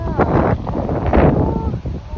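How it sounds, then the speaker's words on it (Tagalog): Strong, gusty wind roars and buffets the microphone on Hobbit Hill in Albay, facing Mayon volcano, as a loud, continuous rush with surging gusts. "Oh, lakas ang hangin."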